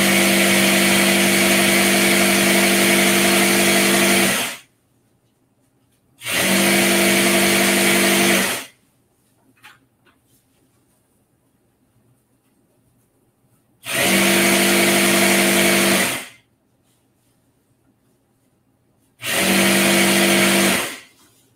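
An industrial sewing machine stitching a tutu runs at high speed in four loud sustained bursts of a few seconds each, with near-silent pauses between them.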